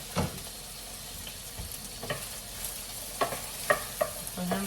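Dried red chillies fry in oil in a pan for an idli chutney, giving a soft, steady sizzle broken by a few sharp stirring scrapes and taps.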